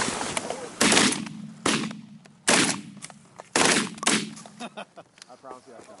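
Shotgun blasts fired at low-flying geese during a late-season Wisconsin goose and duck hunt: five loud, sharp reports spaced about a second apart, each with a short ringing tail, with quieter voices and rustling between shots.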